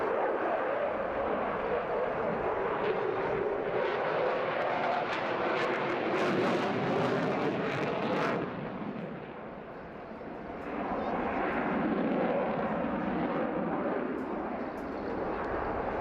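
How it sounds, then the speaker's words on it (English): A jet aircraft flying an aerobatic display at the Wales Airshow roars loudly and continuously, its noise swelling and dipping as it passes. A commentator talks over it. "A magnificent opportunity to really show off the amazing agility of this aircraft."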